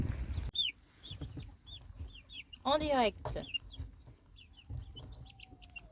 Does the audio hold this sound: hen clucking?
yes